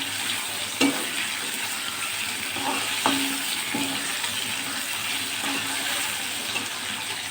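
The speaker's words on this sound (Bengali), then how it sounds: "মাছটা খুব বেশি ভাজবো না।" Shrimp frying in oil in a pan: a steady, close hiss of sizzling runs throughout, broken by a few faint clicks of stirring, with no talking.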